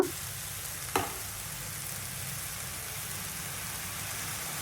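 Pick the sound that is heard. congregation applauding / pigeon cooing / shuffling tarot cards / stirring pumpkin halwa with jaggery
stirring pumpkin halwa with jaggery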